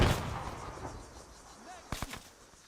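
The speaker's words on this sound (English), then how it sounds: "I'm throwing a grenade." A grenade goes off in the military shooter game ArmA, a booming blast at the start that rumbles away, followed by a couple of sharper distant cracks.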